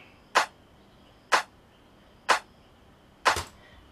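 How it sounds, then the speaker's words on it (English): Layered clap sample from a bass house track, with two pitch-shifted clap layers, struck four times at a steady one-per-second pace, crisp and dry with a slight doubled tail on the last hit. "So our clap sound sounds like this."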